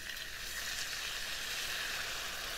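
Onions fry in a hot pan for a chilli crab dish, giving a steady, dense close-up sizzle with no talking.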